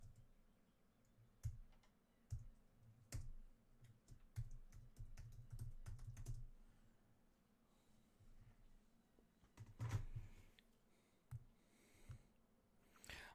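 Computer keyboard typing in a quiet room, bursts of soft key clicks with pauses and a few louder taps, alone without talk.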